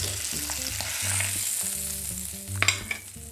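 A slice of beef liver frying in a pan over high heat, crackling sizzle and spatter close by, with a few sharp pops near the end and no talking.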